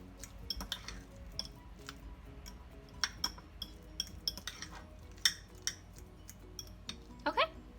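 A utensil scrapes and clinks against a bowl as mashed avocado guacamole is stirred, with quiet, irregular ticks and taps that are sparse and close.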